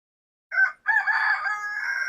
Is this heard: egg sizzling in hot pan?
no